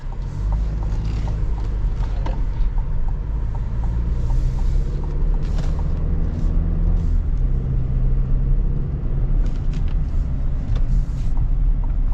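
A 2025 GMC Canyon Elevation mid-size pickup's engine pulls steadily while driving, a smooth, continuous low rumble with road and cabin noise throughout, no voices over it.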